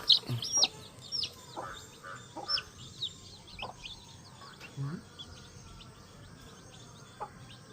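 Small newly hatched chicks peep in short, high-pitched bursts scattered throughout, mixed with a few lower clucks from nearby fowl.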